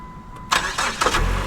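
A car engine cranking and catching after a jump from a Jump and Carry (JNC) jump starter, heard as a few rough bursts of cranking that settle into a steady idle rumble, close and moderately loud with no talking.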